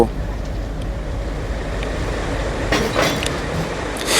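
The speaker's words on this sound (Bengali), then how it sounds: "ইঞ্জিলটি যতই কাছে আসছে রেল লাইনের শব্দ যেন বেড়েই যায় উত্তেজনায় আর অবশেষে ছোট্ট একটি ধাক্কার শব্দ" A railway locomotive rolls toward waiting carriages along the track with a steady, broad rumble, then brief knocks near the end as it couples up; background noise suggests voices may be present.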